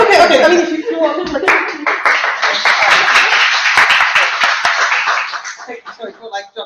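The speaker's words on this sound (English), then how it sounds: "I'm going to give you a big round of applause." An audience at a members' talk evening breaks into applause, a dense burst of many hands clapping that holds for several seconds and then thins into scattered claps, with a voice speaking over it.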